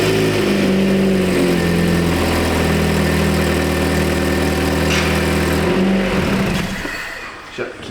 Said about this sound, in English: we're gonna take and turn the key back on and start it again